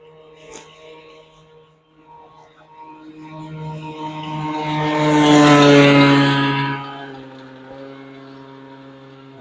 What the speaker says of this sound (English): sounds like a little motorbike, dirt bike maybe